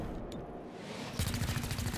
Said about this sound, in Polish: Dobra, pociski przeciwpancerne.